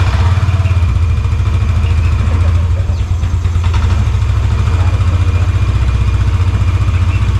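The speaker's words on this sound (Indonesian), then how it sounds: "And then let's start the engine." Idling engine of an older Yamaha NMAX scooter with a repaired injector wire, running steadily and close with a loud low rumble and a slight rev midway, no talk over it.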